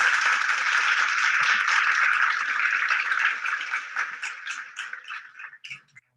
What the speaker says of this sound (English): Let's just give everybody a round of applause then.